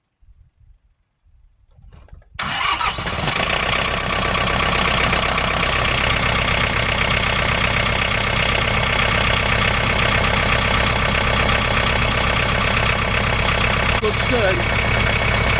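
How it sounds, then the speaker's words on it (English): Tractor diesel engine with a warmed glow plug cranks after a brief quiet lead-in, catches and settles into a steady, loud idle that runs to the end, with a short spoken remark near the start. "So now I'm going to start it up, and then we can check for leaks."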